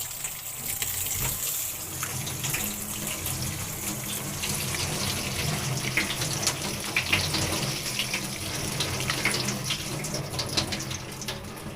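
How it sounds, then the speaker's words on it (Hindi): Half a kilo of mixed masoor and urad lentils rinsed in a kitchen, tap water running and splashing steadily for several seconds with shifting gushes as the grains are swirled. "ये आधा किलो मैंने मसूर और माश की दाल ली है। अब इसको मैं साफ करके धो लूंगी।"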